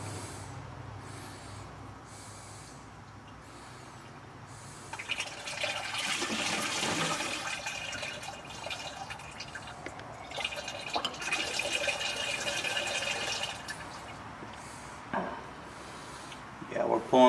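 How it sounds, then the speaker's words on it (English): Glycerin draining through an open valve from a biodiesel settling tank into a container underneath, a steady liquid pouring and trickling that swells after a few seconds and runs on, with occasional clunks and a voice nearby. "I'm going to open this valve and simply drain some of the glycerin"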